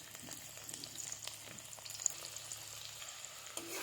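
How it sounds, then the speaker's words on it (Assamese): Ginger and garlic are stirred in a hot pan while making radish and carrot pickle, a quiet sizzle with soft scraping and occasional light clicks of the utensil against the pan. "আদা নহৰু দি অকণমান লৰাই দিছোঁ"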